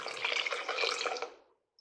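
About 100 milliliters of liquid pours into a container during gold extraction from circuit-board waste, a close, bright splashing stream lasting over a second before stopping, followed by a single faint drip.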